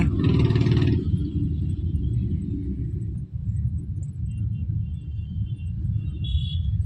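Road traffic near Rajura forms a continuous low, heavy rumble, heard close as if from inside a moving car. A brief higher hiss comes at the very start, with faint tonal whines later on.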